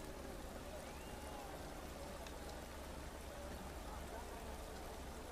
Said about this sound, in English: the rain has got a lot harder